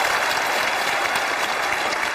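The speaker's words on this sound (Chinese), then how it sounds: "好，来掌声欢迎" Dense, steady audience applause in a television job-interview studio, welcoming a contestant before a song, even and loud with no gaps across the short stretch.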